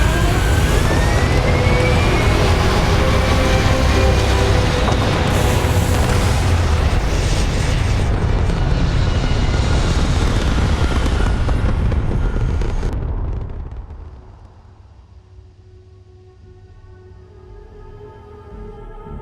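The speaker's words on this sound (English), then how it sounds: "Thrust is firing." Spaceship thrusters fire in Starfield with a loud, continuous roaring rumble that holds steady, then fades sharply to a faint hum as the burn cuts off.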